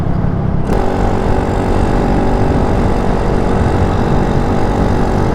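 A Honda clone small engine fitted with a new exhaust runs steadily and loudly up close, a constant rough drone that starts abruptly and holds without pause.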